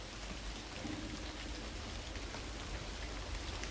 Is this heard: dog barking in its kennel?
no